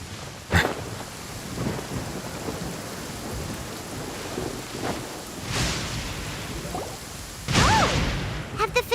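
A thunderstorm in the video game Genshin Impact: rain falls steadily while several sharp thunder cracks and rumbles hit at intervals, with one loud crash near the end.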